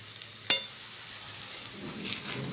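Sabudana khichdi with potato and crushed peanuts being stirred in a pan, a sharp spoon scrape against the metal followed by a soft, steady sizzle and faint stirring, close and quiet with no talk.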